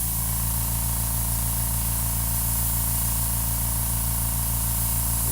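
A spray paint can hisses in one steady, unbroken blast as graffiti is sprayed through a stencil, with a low constant hum underneath and no voices.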